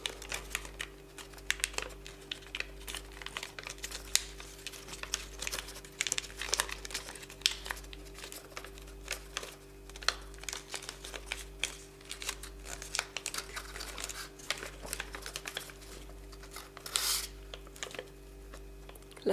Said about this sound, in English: you're pushing that like so to allow the paper to be folded